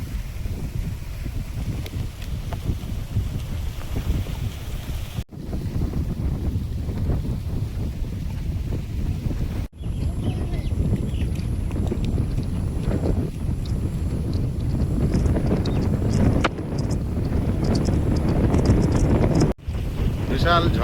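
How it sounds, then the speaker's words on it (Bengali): Strong morning wind roars steadily across the microphone during rainy-season weather, a loud continuous rush with gusty swells and a few brief dropouts. "কত জোরে হাওয়া বইছে দেখুন"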